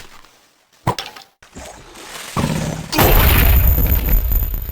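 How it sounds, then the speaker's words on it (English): A few sharp knocks and thumps in Minecraft are followed by a heavy booming blast that rolls into a loud, sustained rumbling roar. "The explosion sound is so visceral."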